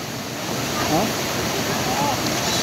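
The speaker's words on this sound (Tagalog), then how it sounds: "sa rumaragasang tubig, bunsod ng patuloy na pagbuhos ng ulan dito po sa may Mati, Davao Oriental" Floodwater rushes in a continuous loud roar during nonstop heavy rain in Mati, Davao Oriental, with a faint voice just audible under the steady wash of the torrent.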